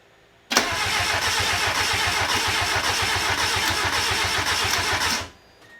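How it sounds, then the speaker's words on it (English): Ford Escort GT engine cranking after a BP4W cylinder head swap, with a rapid, even chug of the starter turning the engine over for about five seconds before cutting off abruptly, loud and close with no voices. "let me throw the battery in and give her a quick little crank."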